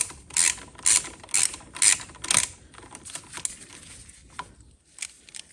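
A ratchet tightens the clutch spring bolts on a Yamaha XJ600 Diversion motorcycle, five quick loud clicking bursts in a row, then softer scattered clicks and taps close by.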